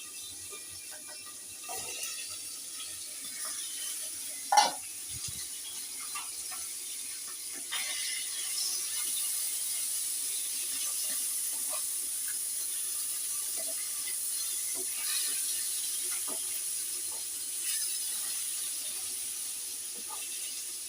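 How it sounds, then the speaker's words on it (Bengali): Ray fish (shankar fish) frying in a pan for a spicy kosha curry, a steady crackling sizzle with scattered pops and spits running throughout, close and moderately loud, with no talking. "ভাজছে দেখো।"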